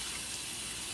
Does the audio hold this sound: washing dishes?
yes